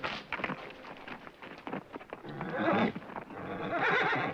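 A horse whinnies loudly, its neigh rising and trembling over a shuffle of hooves and background noise.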